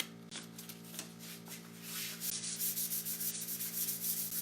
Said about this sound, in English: So I have like a strip of sandpaper here.